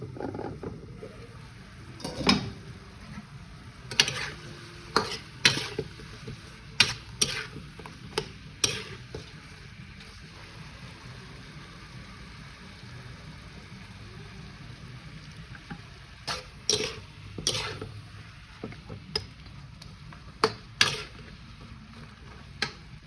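Chicken being sautéed in a pan with a low steady sizzle, punctuated by irregular clinks and scrapes of a utensil stirring against the pan.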